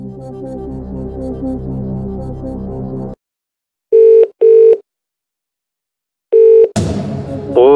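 Telephone dialing and ringing for the Phone a Friend lifeline in a Who Wants to Be a Millionaire video game: music cuts off, then two short ring tones, a pause, and a third ring before a voice answers.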